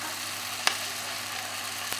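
Chicken pieces browning in a pan for a curry give off a soft, steady sizzle throughout, with two brief sharp clicks standing out against the hiss.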